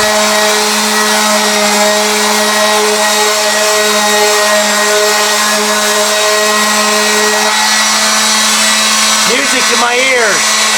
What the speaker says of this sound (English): Gonna do some sanding with the orbital sander to make it all smooth and crisp.